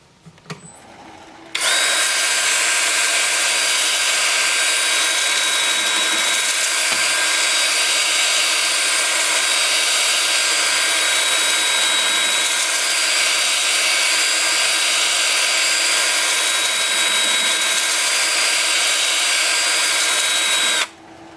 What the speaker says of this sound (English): 2-inch sanding disc starting at 80 grit